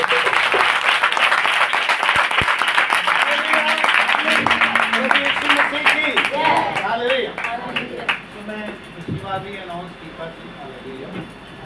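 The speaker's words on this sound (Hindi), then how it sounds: "पिता पुत्र पवित्र आत्मा के लिए ताली" A church congregation claps together at a service, a dense steady wash of applause that later thins as singing voices and music rise over it.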